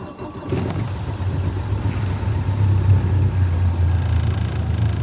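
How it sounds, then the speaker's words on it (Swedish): A Mercury 150 Pro XS outboard motor cold-starts for the first time, catching after a brief crank and settling into a steady, loud, low rumbling idle that runs throughout. "Så nu prövar vi att starta den här motorn första gången och se hur den låter."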